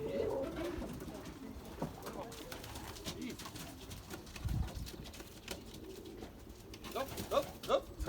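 Racing pigeons at a loft during old bird race arrivals, soft low cooing and fluttering near the birds, with a person talking faintly in the background.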